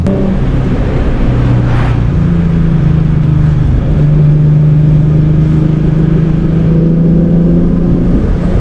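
A 2008 Ford Mustang V6 pulls hard on a road through Watchung Reservation, its engine drone climbing steadily in pitch from close inside the cabin, loud and continuous throughout.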